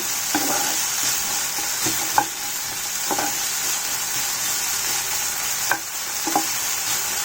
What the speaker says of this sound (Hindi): इनको हम हल्का सा सौटे करेंगे।